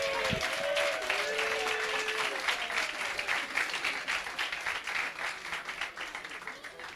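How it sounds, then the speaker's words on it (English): A crowd applauds at a rowing prize-giving, steady clapping that rises after a brief spoken line and holds at a moderate distance before slowly tapering. "I think let's also give them a little round of applause."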